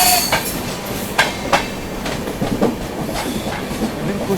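LTT Gorakhpur Kushinagar Superfast Express train passing close by, a steady loud rumble of rolling wagons with repeated sharp clickety-clack wheel beats over rail joints, no voices.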